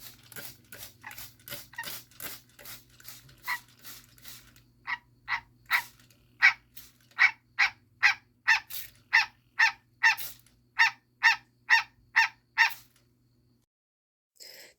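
An American green tree frog calls close up in a rapid series of short, nasal honks, about a dozen evenly spaced croaks, then stops.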